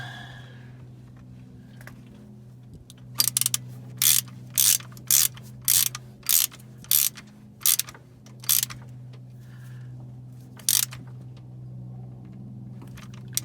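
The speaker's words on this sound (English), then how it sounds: "Tighten up this drain plug and we'll be done." A hand ratchet clicks in about a dozen quick, evenly spaced bursts while tightening the transmission drain plug on a 1999-2005 MK4 Volkswagen Jetta or Golf TDI with a 5-speed gearbox. A steady low hum runs underneath.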